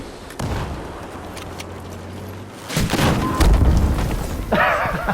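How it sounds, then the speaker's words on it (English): Rocket explosions hit a tank in a video game, heavy booming blasts and thuds at close range over a rumbling engine drone, with a noisy burst near the end. "I'll fire a rocket at him. I hit him."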